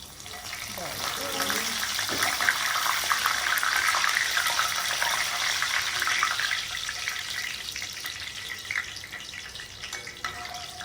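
Washed tortilla strips frying in hot oil, a steady hissing crackle with sputtering splatters that swells and then settles over about ten seconds, heard close.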